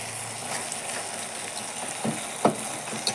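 Onions and tomatoes sauté with rock salt in a pan, giving a steady soft sizzle with a few brief spoon clinks and stirring scrapes near the end; no one speaks.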